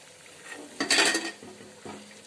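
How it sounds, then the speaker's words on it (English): Short metallic scrape and clatter of a utensil against a frying pan as fried nachos are lifted out, with faint sizzling before and a softer clink afterward. "So we'll be removing our nachos from the frying pan"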